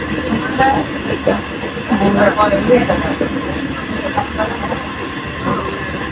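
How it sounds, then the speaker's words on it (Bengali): A train departing Mongla rumbles along with a steady low drone and faint rhythmic clatter, while people talk nearby over the noise. "আমাদের ট্রেনটা মোংলা থেকে এখন ছেড়ে দিয়েছে"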